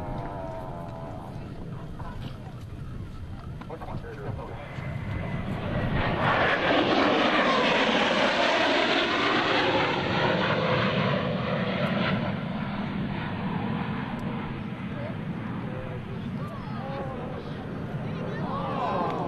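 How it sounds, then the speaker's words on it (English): US Navy Blue Angels jets making a low pass in line abreast formation at about 400 mph at the Dayton airshow, a roaring engine sound swelling loud then fading, with an announcer talking over it. "Blue Angels 5 and 6 are approaching the flight line in a line abreast formation at 400 miles per hour"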